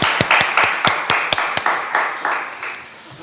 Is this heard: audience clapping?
yes